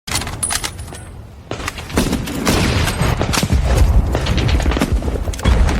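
Battle gunfire from the war film Saving Private Ryan, with loud bursts of rifle and machine-gun shots and booms. They come as dense, ragged volleys with a short lull near the start, then build into nearly continuous firing.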